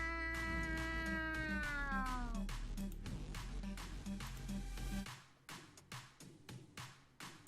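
A human voice imitates a cat's meow inside a horror-tinged video game, a long drawn-out meowing tone over a steady low hum, followed by softer rhythmic thumps after it fades.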